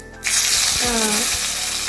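Oil sizzles loudly and steadily after a brief quiet start, with a few soft thuds and bubbling crackles as dried chillies and curry leaves hit the hot pan for chutney tempering.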